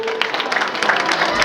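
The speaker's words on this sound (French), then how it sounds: "Je pense qu'on peut l'applaudir très fort pour ce diapo" Audience applause at a 2005 family reunion after a slideshow, a steady patter of many hands clapping for about a second and a half at moderate loudness with no speech over it.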